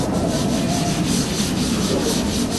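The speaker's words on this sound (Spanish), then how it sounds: "¿Están mirando lijar o están en la clase?" Close, continuous sanding during a seminar, a rough rhythmic scratching that stays loud and even throughout with no talking.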